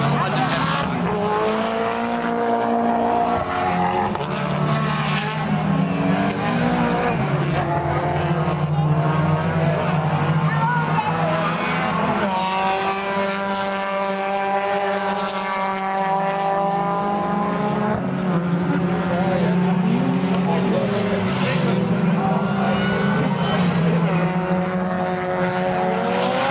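A rally car on Yokohama tyres races through a stage at a 2018 round-one event, its engine loud and continuous with pitch rising and falling as the driver brakes and accelerates into corners.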